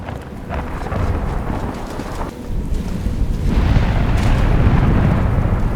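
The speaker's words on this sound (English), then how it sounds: "The storm seems to be localized right here." Thunderstorm rumbling continuously with heavy broadband rain-like noise, deep low thunder building and swelling louder toward the end, with no voices.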